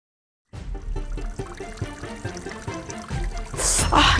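Water pours and splashes steadily with a gurgling trickle, rising to a louder rushing splash near the end; no talking.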